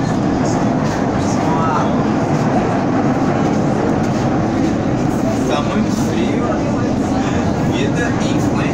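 A Rio metro subway train running underground, a loud continuous rumble and rattle with faint clickety-clack throughout, while people talk over it.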